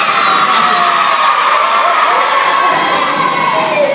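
A large audience of sixth-grade pupils at a school competition in El Jadida cheering and shouting a name in unison, a loud, sustained wall of young voices with no break.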